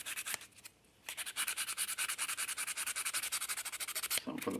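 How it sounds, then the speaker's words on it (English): Close, rapid rhythmic rubbing as rods on a 1/6 scale vinyl figure kit are scuffed with abrasive, a steady stroke pattern after a short pause, loud and alone with no talking. "So I'm going to also scuff up these rods so they got something"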